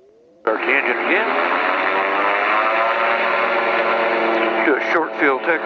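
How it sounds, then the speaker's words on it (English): Magni gyroplane engine starting up on the ground after an engine-out landing, catching abruptly and settling into a loud, steady droning run with strong harmonic tones, close to the cockpit with brief radio or intercom chatter near the end. "Start the engine again."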